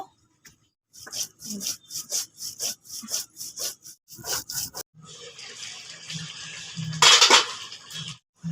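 Cardamom and cumin being ground into a paste, heard as a run of rhythmic rubbing, grating strokes, roughly ten even passes, then a brief louder scrape, close up and with no talking.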